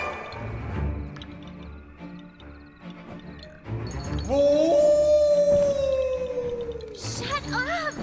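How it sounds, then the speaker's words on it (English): Creatures howling in the Puppeteer video game, a long rising and sustained howl swelling loud over game music and effects, with a sharper cry at the end. "The howls grew closer"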